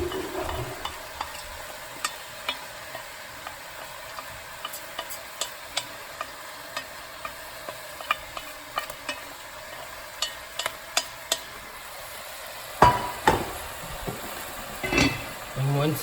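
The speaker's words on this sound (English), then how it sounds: "once you add anything, you need to saute again" Split peas and vegetables sautéing in a pot, a low steady sizzle broken by frequent spoon taps and scrapes from stirring, louder rattling scrapes near the end.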